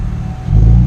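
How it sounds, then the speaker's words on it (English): A 2014 Camaro with NPP exhaust and its secondary catalytic converter deleted revs up close and loud, jumping halfway through into a deep, booming exhaust roar that holds steady. "Give us some revs."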